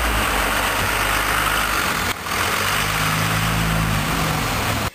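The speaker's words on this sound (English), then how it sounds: "I just watched the guy tow my cars away" A tow truck's heavy engine rumbles steadily nearby as it hauls cars away, with a short dip in the drone midway before it continues, then cuts off abruptly at the end.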